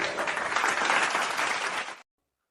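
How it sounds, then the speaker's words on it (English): A round of applause at an elementary school moving-up and graduation ceremony, dense steady clapping for about two seconds that cuts off abruptly into silence. "With a big round of applause"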